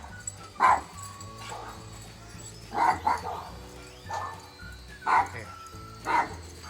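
Dogs bark in short yips and bow-wows on a cold, rainy day, about five separate barks spaced a second or two apart, fairly close and loud.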